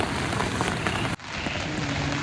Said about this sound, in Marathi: पाऊस बाहेर पडतोय ना